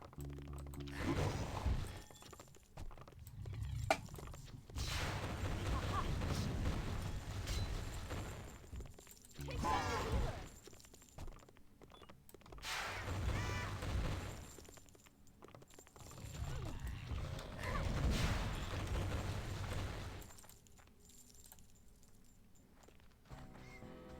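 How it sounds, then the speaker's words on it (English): Explosions echo through the depths in the video game Eternium, arriving as several loud, crashing bursts of debris and rumble separated by short gaps, with game effects between them and no talk. "I hear some explosions in the depths"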